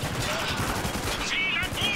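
Sustained gunfire in the video game Spec Ops The Line, dense and continuous with rapid bursts throughout, loud and close.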